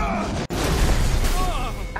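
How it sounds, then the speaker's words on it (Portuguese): Shield blast in an Avengers video game: a heavy, dense booming explosion with a brief dropout near the start, then sustained crackling roar and debris filling the rest, loud and close amid game sound. "ele deu uma explosão com o escudo"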